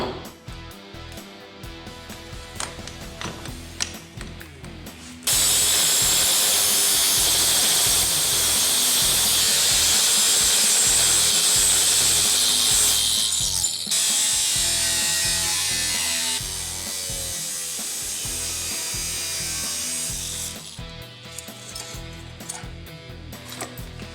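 An angle grinder fitted with an 045 cutoff wheel bites into a steel saw blade, a loud, harsh, sustained shriek starting after a few seconds of quiet and running for about fifteen seconds with brief dips.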